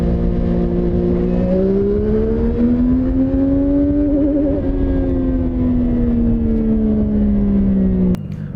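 A CFMOTO 675SS three-cylinder sport motorcycle engine revs loudly and close, its pitch climbing, wavering and then easing back in a sustained drone before cutting off abruptly with a click.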